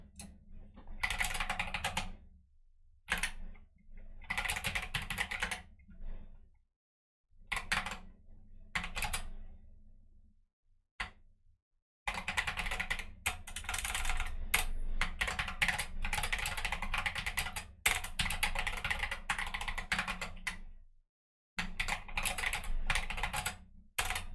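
Computer keyboard typing in close bursts of rapid clicking, broken by short pauses and one longer silent gap, while someone codes in Elixir.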